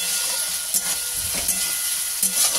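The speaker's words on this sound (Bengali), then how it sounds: "এদিকে বড়াগুলোও একরকম ভাজা হয়ে এসছে" Lentil fritters (bora) fry in hot oil, giving a close, continuous hissing sizzle with a few soft crackles and pops, and no one speaking.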